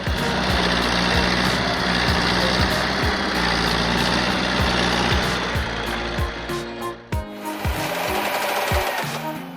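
A tracked tractor's engine strains as the machine pulls through deep mud, a loud, rough, pulsing drone with regular knocking beats that falters and shifts near the end.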